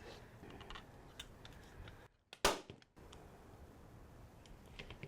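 A staple gun fires once, stapling folded ribbon to a grapevine wreath. It gives a single sharp, close snap between stretches of light handling and rustling noise.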